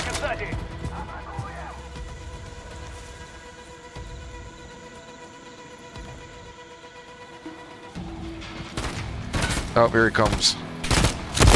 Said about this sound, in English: Hey, who the fuck is shooting?